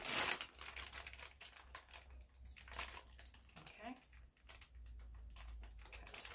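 A crinkly plastic bag rustles and crackles in close, irregular bursts while an object is pushed into it for a toy unboxing, with a low background hum throughout.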